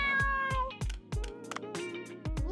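A pet cat named Momo meowing in The Sims 4, several short, close meows in a quick uneven series, loud and clear with nothing else over them.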